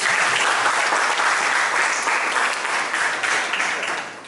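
Nursing students applaud in a classroom lecture on community nursing ethics, a dense, even burst of clapping that holds steady and then tapers off at the end.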